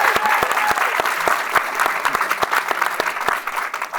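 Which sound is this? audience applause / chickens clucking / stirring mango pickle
audience applause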